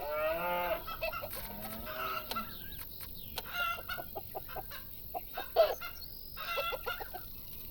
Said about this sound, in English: Go away, birds, go away.